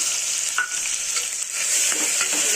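Tomatoes and onions fry in a pan for a simple moong dal, a steady loud sizzle with scraping stir strokes across the whole stretch and no voices.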